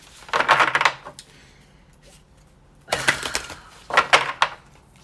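Two or three short bursts of crisp papery riffling of oracle cards being shuffled nearby, separated by quiet pauses.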